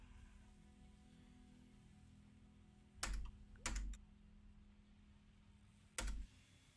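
Computer keyboard in a live game stream setting, a few sharp clacks in two small bursts around the middle and one more near the end, quiet background in between.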